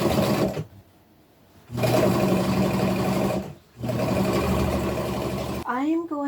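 Sewing machine top-stitching a denim jumper, two long close runs of fast steady needle chatter separated by a short pause, with a brief voice at the very end.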